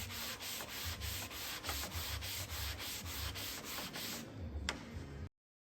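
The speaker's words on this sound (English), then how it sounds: "So I'm gonna take the sanding block" A sanding block rubs across a painted wood sign in quick, regular back-and-forth strokes, a close scratchy rasp that pauses briefly near the end, then stops.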